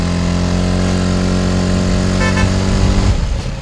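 QJ ATX 250X adventure motorcycle pulling hard up a hill, a loud, steady engine drone that holds close and continuous before tapering off near the end.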